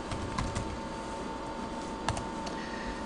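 Computer keyboard typing during a VB.NET XNA game programming session, a steady patter of soft keystrokes with a few sharper clicks over a constant background hum, close to the microphone.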